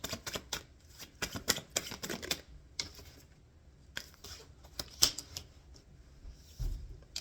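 Tarot cards being drawn and handled, with a run of quick crisp card snaps and flicks in the first few seconds, then sparser handling noises and a soft thump near the end, close and alone.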